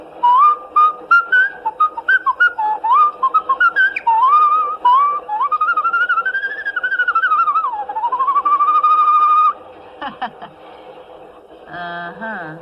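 A person whistles the tune of Yankee Doodle, clear and close, in short melodic phrases that end in a few breathy, laughing sounds.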